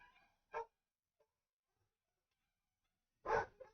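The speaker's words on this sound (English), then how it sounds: "So you hear all the barking. That's the dogs." Two short, faint dog barks, one early and one near the end, separated by quiet in a room.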